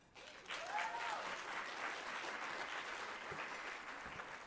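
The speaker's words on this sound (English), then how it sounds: "Clap it up." At the 38th annual Pursuit of Excellence Award ceremony at a state university, a crowd breaks into applause after a short pause. The clapping is fairly faint and distant and holds steady for several seconds.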